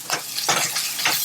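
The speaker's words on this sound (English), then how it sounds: "And it's frying, turn it to medium low" Thinly chopped onion fries in a pan at medium-low heat for khoresht karafs, a steady close sizzle with three soft whooshing swells as it is stirred.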